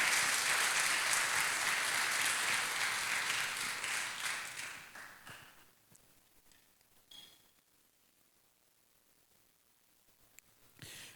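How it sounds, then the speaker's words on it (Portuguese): Church congregation claps loudly together for several seconds, then the applause fades away into near silence with a few scattered taps and faint noises. "Aplauda o Senhor Jesus."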